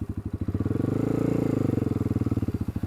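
A Honda 300EX ATV engine runs steadily on a dirt road, its rapid, regular firing pulses swelling louder through the middle and holding a strong, close throb throughout.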